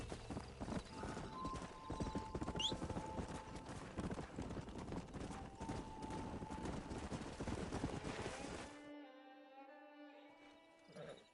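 Horse hooves clip-clopping in Red Dead Redemption, a steady close rhythm of hoofbeats over game ambience that stops near the end, leaving a sustained tonal music bed.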